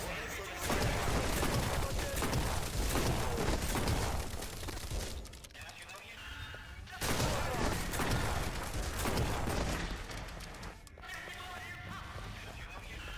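Shotgun fire in a video game while a bunker is cleared, loud bursts of blasts and crashes under a talking voice, with two short lulls.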